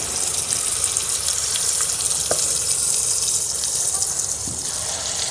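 Chicken pieces dropped into hot oil for a Tamil-style chicken fry, giving a loud, steady, close sizzle that holds without a break.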